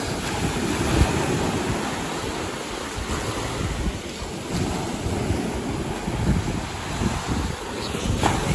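Ocean surf washes steadily near the shore of Anna Maria Island, a continuous rumbling wash of breaking waves mixed with gusty wind buffeting the microphone, with no voices.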